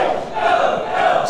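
A wrestling crowd at a Glory Pro match roars behind ACH, a loud, continuous wall of cheering and shouting with no break across its short span.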